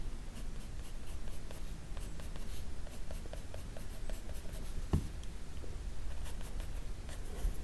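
Graphite pencil scratching steadily across drawing paper in close, quiet strokes, with brief pauses and a small tap, and no voices.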